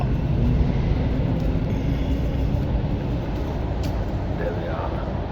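A GO train on the eastbound track at a station at night gives a steady low rumble with a continuous mechanical hum and faint higher whines, close and unbroken.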